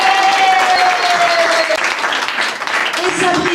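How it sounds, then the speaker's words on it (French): Warm, continuous applause from a group at a retirement party, loud and close, sustained throughout with a brief dip before swelling again. "On l'applaudit aussi."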